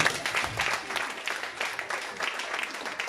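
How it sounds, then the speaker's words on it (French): A church congregation applauds during a sermon, a short burst of dense, fairly distant clapping that holds steady for about three seconds. "Acclamons pour elle quand même."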